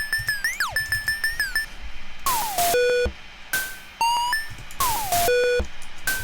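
A synthetic drum machine beat livecoded in C++, made of bleepy pitched electronic tones with sweeping falling chirps and bursts of noisy hits, repeating in a loose, busy pattern, fairly loud with no talking.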